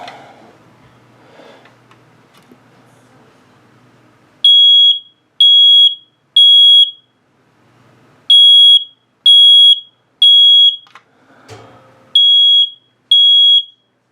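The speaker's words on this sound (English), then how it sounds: "the three long pulses are the exact pulses you hear in a fire alarm when it goes in temporal" First Alert or Kidde smoke alarm under test, loud shrill beeps in groups of three long pulses repeated three times, with faint handling clicks between the groups, close and clear.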